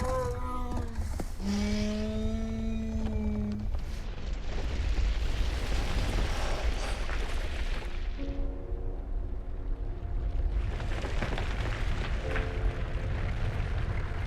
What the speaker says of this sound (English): I hear the fireworks going off.